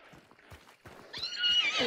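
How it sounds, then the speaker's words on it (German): In the video game Hunt: Showdown, a horse whinnies clearly after a few soft hoof clip-clops, with the neigh rising loud and bright toward the end, no talk over it. "Hier ist ein Pferd."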